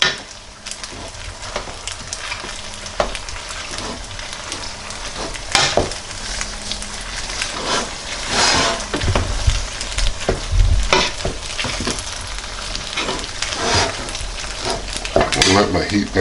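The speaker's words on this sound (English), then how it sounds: "I'm going to try and mix the slices in there now." Cheese slices being stirred into macaroni in a pot, with a spoon repeatedly scraping and knocking on the metal over a constant sizzling bubble, irregular and fairly loud throughout.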